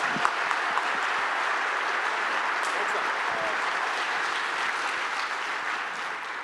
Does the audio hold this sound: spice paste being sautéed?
no